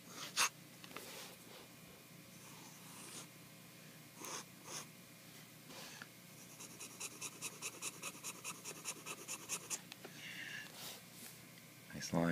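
A Nakaya Neo Standard fountain pen writing on Tomoe River paper: faint, close scratching strokes, including a fast rhythmic run of short scritches in the middle, set between pauses and quiet background noise.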